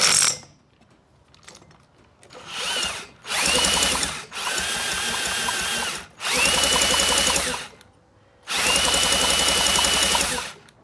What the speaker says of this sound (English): I'll get my drill